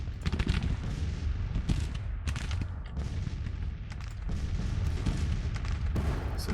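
Cannon fire from massed Civil War artillery batteries in the strategy game Grand Tactician, a dense irregular barrage of booming shots and crackling musketry, continuous and moderately loud with no talk.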